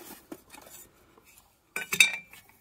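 Metal parts of a backpacking stove kit clinking and rattling as it is opened and handled, with a few light taps early on and a brighter cluster of metallic clinks near the end.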